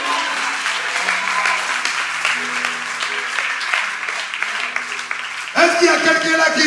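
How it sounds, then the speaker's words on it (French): A church congregation claps steadily under music and voices, then the applause and cheering swell louder near the end. "Applaudissez Jésus"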